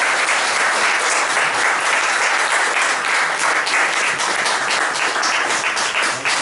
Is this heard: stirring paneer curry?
no